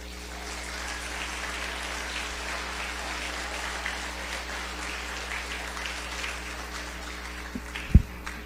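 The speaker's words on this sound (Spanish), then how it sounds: "Dele un aplauso a Dios." A congregation at a Spanish-language church service applauds together, a steady dense wash of clapping that carries on throughout, with a sharp knock near the end.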